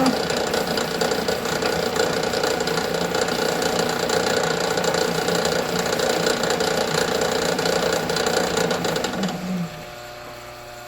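A Sheldon metal lathe, driven by belts over several pulleys to its spindle, runs with a steady loud mechanical whir and knock. The noise cuts off near the end and leaves a quieter hum.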